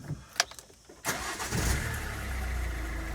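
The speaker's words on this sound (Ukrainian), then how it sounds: "Заводимо машину." A Kia or Hyundai car engine cranks briefly with a couple of clicks, catches and settles into a steady idle, heard up close with no talk.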